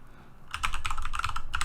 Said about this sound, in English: Now we're going to type in our Gmail address or AOL address or whatever you have.